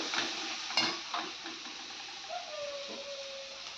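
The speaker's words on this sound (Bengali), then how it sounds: "আদাটা ভাজা ভাজা হয়ে গেছে, এখানে একটু জিরে, শুকনো লঙ্কা গুঁড়ো আর হলুদ আমি দিয়ে দেবো ভেতরে" Ginger frying in a pan with cumin, dry chilli powder and turmeric for a vegetarian potato curry, giving a steady sizzle with a few stirring clinks near the start.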